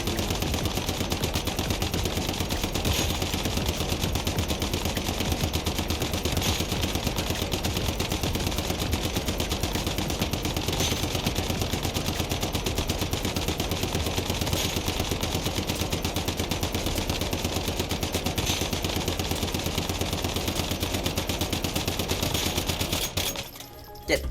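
Dense, continuous automatic SCAR rifle fire in the video game Once Human, loud and sustained almost without a break, ending abruptly near the close.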